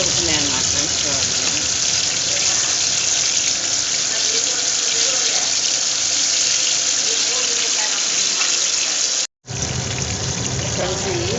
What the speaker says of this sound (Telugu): ఈ విధంగా ఫ్రై అవుతున్నాయి అన్నమాట ఫ్రెండ్స్.